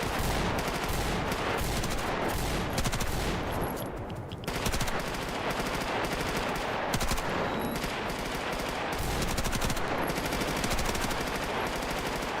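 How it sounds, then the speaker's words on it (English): Sustained automatic gunfire from the video game GAMMA rattles almost continuously for about twelve seconds in loud, dense bursts, with a brief lull near the middle. "What are you firing at? Can I fire at it too?"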